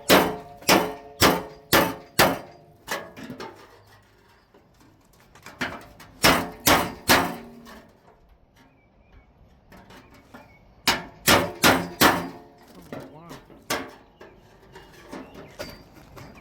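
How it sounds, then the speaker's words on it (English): A brass hammer strikes metal in a garage, coming in quick bursts of four or five sharp, ringing blows separated by quiet pauses, loud and close with a short decay after each hit. "This brass hammer will work better."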